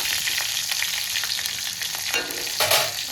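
Green chillies sizzle and fry in hot oil in a pan while fenugreek-leaf dishes are cooked, giving a steady close crackle with light stirring and a brief louder burst near the end, with no talking.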